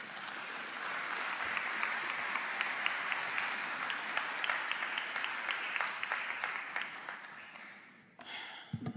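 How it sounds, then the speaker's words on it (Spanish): A large crowd applauds steadily for several seconds, the clapping dense and sustained before it fades out. "Fuertes aplausos."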